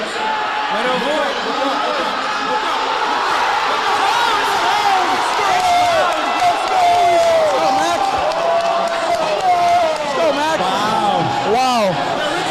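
A restless, excited crowd at a Wildcard Weekend football broadcast, with a constant roar, whoops and shouts behind close commentators talking over it, loud and sustained.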